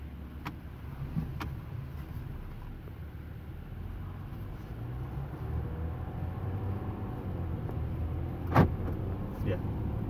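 Low steady rumble of a Ram EcoDiesel truck's diesel engine running after starting, continuous and moderately close, with a couple of brief clicks and a sharper knock near the end.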